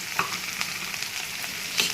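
Soaked chili paste going into browned broad beans in a hot pan, a brief steady sizzle with soft stirring scrapes close by.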